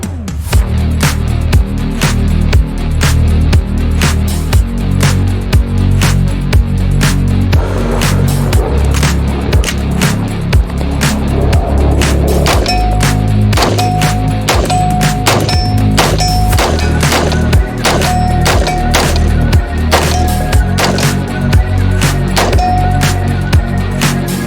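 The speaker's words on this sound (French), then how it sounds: "Un tir de 10 cartouches à 40 mètres." An Angstadt Arms UDP-9 pistol-caliber carbine fires ten rounds at a 40-metre target outdoors: loud, sharp repeated bangs at an irregular, fairly quick pace, each with a booming low tail, across the whole stretch.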